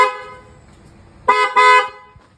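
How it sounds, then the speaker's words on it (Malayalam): Wind 90 copper car horn fitted to a Mahindra XUV300, sounding two loud, close blasts, a short toot followed by a longer one, after a quiet stretch with a faint hum. "പിന്നെ നമ്മുടെ വിൻഡ് 90 കോപ്പർക്ക് ഒരു ഹോൺ സെറ്റ് ചെയ്തിട്ടുണ്ട്."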